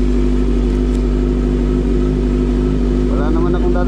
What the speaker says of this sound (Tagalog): Mag motor lang tayo para mabilis.